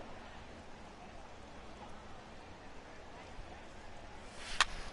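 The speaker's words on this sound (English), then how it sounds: "It's raining cats and dogs out there." Heavy rain in the baseball video game MLB The Show 18, a steady, even hiss of downpour throughout with a brief sharper crackle near the end.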